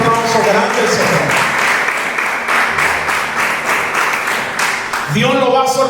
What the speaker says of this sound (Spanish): un aplauso grande al Señor